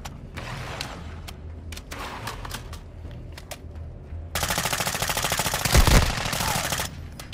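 Gunfire in a Warzone-style shooter video game: a loud, sustained burst of rapid automatic fire runs through the second half, with a heavier blast near the end, following quieter game sounds and scattered clicks.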